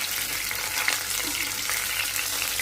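Homemade frozen singara (samosas) frying in hot oil, a dense, steady sizzle with sharp spattering crackles throughout, close and continuous, with no talking.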